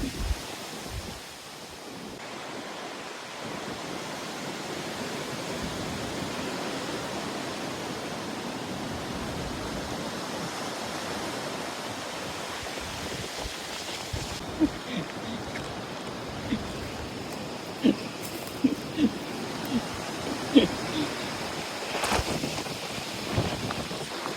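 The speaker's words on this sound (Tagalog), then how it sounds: "Lamig! Ang hangin." Steady cold wind in Nasushiobara, Japan, rushing and buffeting the microphone, a constant broad hiss with a few faint knocks near the end.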